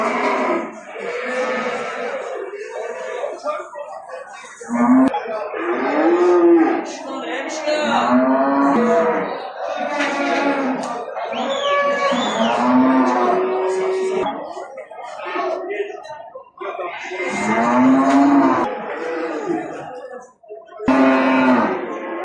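Cattle, including heifers and bull calves, moo loudly and repeatedly close by at the Maştağa livestock market in Azerbaijan, long drawn-out lowing calls overlapping with some people talking.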